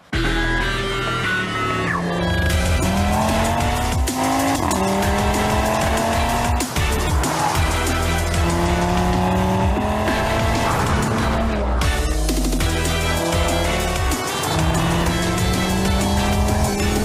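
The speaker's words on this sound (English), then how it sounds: "Driving the all-new Audi RS3 sedan." An Audi RS3 sedan drives hard with a loud revving engine, rising gear pulls and repeated tire squeals, continuous and close throughout with no talk.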